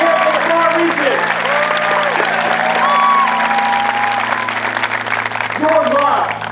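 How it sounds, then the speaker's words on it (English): Loud, sustained applause and cheering from a large outdoor crowd at an Air Force basic military training graduation parade, steady throughout with voices calling out over it. "send an applause to yourself right now"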